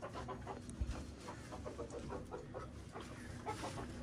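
Hens on a farm keep up low, steady clucking and soft chatter at a moderate distance, a continuous murmur of fowl with occasional louder calls and a faint background hum.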